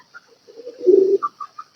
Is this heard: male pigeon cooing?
yes